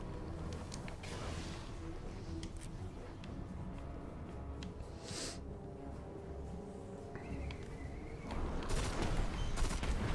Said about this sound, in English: While I love the sound this gun makes, it's terrible for PvE.